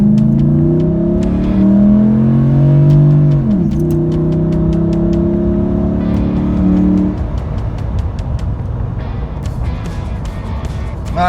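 A 2013 Ram pickup with a tuned 5.7-liter HEMI V8 accelerates hard from a stop. The loud engine drone climbs, drops at a gearshift, climbs again and then settles into a lower cruising roar with road noise.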